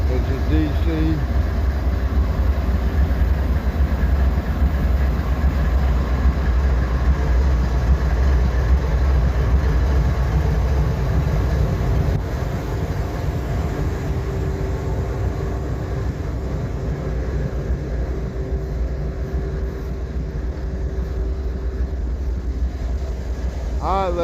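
Abbeville switcher locomotive 5381, a DC unit, running with a loud, steady low diesel rumble that persists throughout, close and unbroken, with a slight drop in level partway through.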